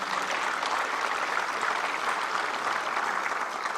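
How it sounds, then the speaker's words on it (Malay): Sustained applause from an audience at the opening ceremony of a Keluarga Malaysia symposium, dense steady clapping filling the hall at moderate level with no talk over it. "Kita berikan tepukan kepada mereka"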